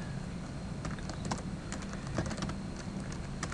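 Keys clatter on a computer keyboard as a command is typed, with a steady run of close, fairly quiet clicks and no talking.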